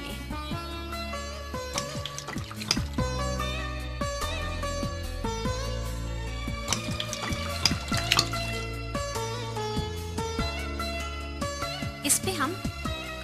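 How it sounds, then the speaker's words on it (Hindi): Hot water poured out for a demonstration on sanitary pad layers, a steady liquid trickle and dripping that sits beneath loud, continuous background music throughout. "ये है गर्म पानी।"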